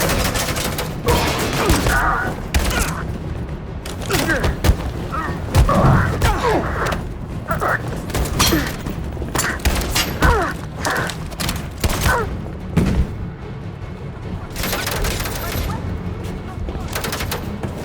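Gunfire in a Detroit: Become Human firefight, with dense bursts of shots, thuds and crashes going on throughout, mixed with voices shouting over the shooting.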